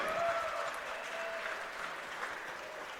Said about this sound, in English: A round of applause for both men.